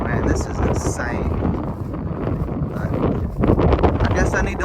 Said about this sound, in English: But you'll hear the wind through the camera, man.